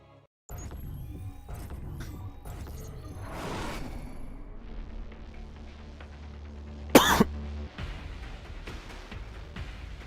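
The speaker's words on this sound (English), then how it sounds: "another cough came out" A single harsh cough bursts out from someone close to the microphone during a StarCraft 2 tournament broadcast, loud and brief over a steady background hum, with other faint clicks and shuffles around it.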